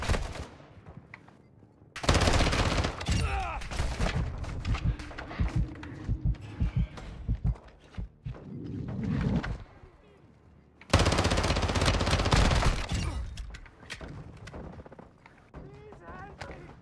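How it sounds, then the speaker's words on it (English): Bursts of automatic gunfire in Call of Duty DMZ, coming in two heavy volleys with scattered shots between, loud and close, as if striking the player, with a voice talking over parts of it. "You are taking effective fire."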